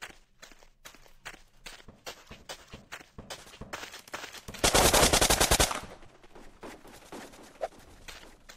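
Footsteps patter steadily in the Blockpost video game, then a loud burst of automatic gunfire lasts about a second, followed by more rapid steps.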